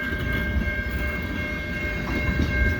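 A long CN freight train rolls steadily past at a street crossing during a snowstorm, a close, continuous heavy rumble and wheel noise with a faint sustained tone above, and no talking.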